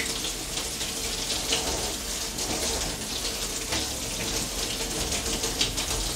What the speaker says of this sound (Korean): 이 소고기는 지금 물에 헹궈서 핏물을 제거하는 겁니다.